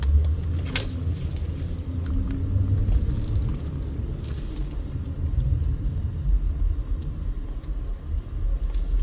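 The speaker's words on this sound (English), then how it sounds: "traffic is pretty heavy" Heavy traffic on the Las Vegas Strip: cars rumble past in a steady low roar, engines swelling and fading, with a few brighter passing noises over the constant road hum.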